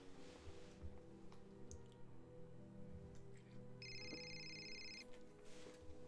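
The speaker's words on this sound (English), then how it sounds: "Oh, we've got a phone call." A phone in the video game Sinking Island rings once, a short electronic warbling tone of about a second heard over a low, steady background hum.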